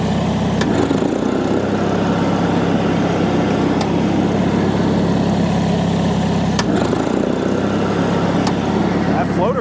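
A Bolens HT20 lawn tractor engine runs loud and steady with the PTO engaged, droning at close range with a couple of brief dips, while someone talks over it.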